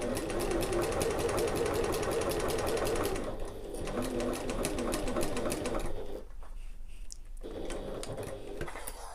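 A sewing machine stitches a seam around the edge of a fabric sling bag in a steady, fast mechanical whir, running continuously with brief pauses and changes in pace as the fabric is guided.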